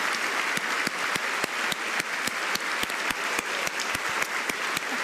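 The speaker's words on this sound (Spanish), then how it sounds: "Un fuerte aplauso para María Noel Richetto, por favor." Audience applauding after a keynote speech, a steady dense wash of clapping with sharp individual claps standing out throughout, loud and continuous with no pause.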